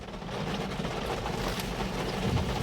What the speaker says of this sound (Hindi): और ये होती है भाई मुंबई की बारिश, खड़े खड़े आ जाएगी।